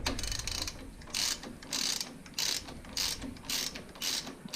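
Hand ratchet snugging a bolt, loud clicking strokes in repeated bursts of roughly half a second with short pauses between, close by and without talk.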